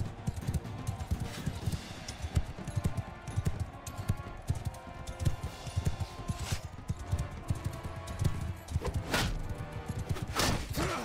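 Horse hooves thudding in Mount and Blade 2 combat, a continuous fast galloping clatter mixed with clashing impacts and whooshes in a dense battle soundscape.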